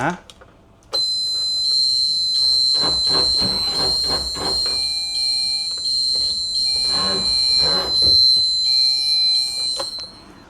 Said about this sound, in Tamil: செம்ம சவுண்டு, அந்த பீப் சவுண்டு கேட்டுகிட்டே இருந்துச்சு